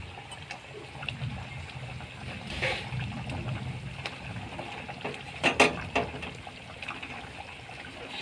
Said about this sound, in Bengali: ভেজে রাখা বেগুনগুলো এগুলো দিয়ে দিচ্ছি।